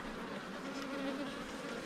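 Honey bees buzz around hive frames as a frame is slid gently into a receiving hive, a continuous close drone of many wings without pauses.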